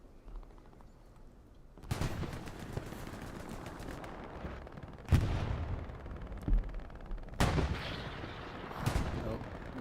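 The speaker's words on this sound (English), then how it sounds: "Got a tank battle, sounds like." Heavy gunfire and booming cannon blasts from a tank battle in the video game Hell Let Loose, with several loud, sharp reports spaced seconds apart over a steady rumbling din of distant combat.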